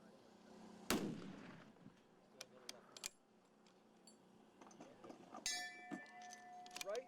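A few sharp rifle shots ring out at an extreme long-range shooting match, each a sudden crack followed by a fading rumble, with faint clinks and quiet background noise between.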